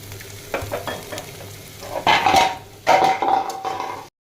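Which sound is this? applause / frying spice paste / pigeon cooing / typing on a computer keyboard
frying spice paste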